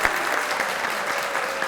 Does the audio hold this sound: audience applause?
yes